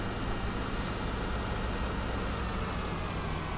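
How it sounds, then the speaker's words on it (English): A truck engine idles steadily in Farming Simulator 19, a continuous broadband rumble with a faint hiss, even and unbroken throughout, with nobody talking. "Oop, left the engine running."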